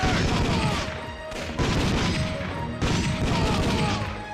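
Rapid bursts of gunfire from the Time Crisis arcade shooter played in VR, loud and dense, arriving in three clusters separated by brief dips.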